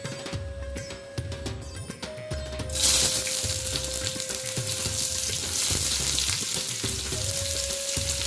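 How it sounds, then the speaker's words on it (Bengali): Quiet kitchen sounds give way to a sudden loud sizzle as chopped onion hits hot refined oil in a kadai, then frying crackles steadily. "কড়াইতে রিফাইন তেল গরম করে নিয়েছি। এবার তেলের মধ্যে দিয়ে দেবো পেঁয়াজ কুচি,"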